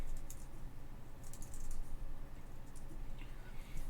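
Quiet, close typing on a computer keyboard, a few short bursts of key taps over a faint steady hum, with no one speaking.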